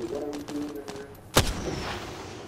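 A single sharp, loud gunshot crack in the battle royale game Apex Legends, cutting through quieter game noise and faint distant shots.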